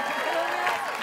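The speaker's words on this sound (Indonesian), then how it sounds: "Tepuk tangan sekali lagi untuk goyang donat." Short stretch of studio audience applause and crowd noise on the Family 100 Indonesia game show, steady dense clapping at a moderate level.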